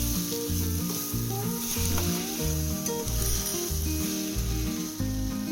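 Chopped onion and tomato sizzle steadily in a frying pan for egg masala, a continuous crackling hiss that sits under tonal background music with no talking.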